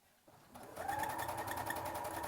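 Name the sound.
sewing machine stitching a straight seam in fabric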